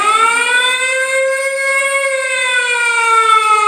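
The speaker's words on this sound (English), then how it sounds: "That is a public domain siren." A public domain siren sound effect wails loudly and continuously, a steady rich tone that rises and falls gently, alone without voices.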